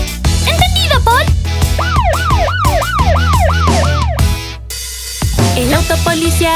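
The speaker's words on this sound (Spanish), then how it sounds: "La sirena policial va wiu wiu, wiu wiu, wiu wiu." A loud wailing cartoon police car siren rising and falling in quick repeated sweeps, with animated voices before and after it.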